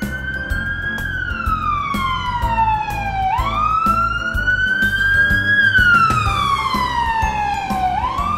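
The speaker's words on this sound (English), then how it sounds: "Ambulance." An ambulance siren wails loudly and near, sweeping up and down in long slow cycles over a rumbling vehicle engine, with no voices.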